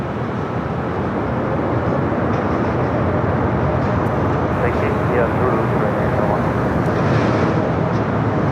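A large airliner landing at Los Angeles LAX airport produces a loud, sustained broadband engine roar that fills the whole stretch, steady and close, with no break.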